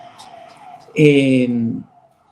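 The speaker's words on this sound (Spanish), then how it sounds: "van a escuchar sirenas y todo" A siren wails outside, a loud rising tone that cuts in about midway and holds for under a second before dropping off, with faint background sound around it.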